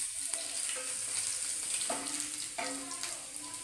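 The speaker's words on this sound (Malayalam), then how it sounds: "നമുക്ക് കടുക് പൊട്ടി തുടങ്ങിയിട്ടുണ്ട്." Mustard seeds popping and small shallots frying in hot oil in a pan, a steady sizzle with scattered sharp pops and a few stirring scrapes, close and fairly loud, no talking.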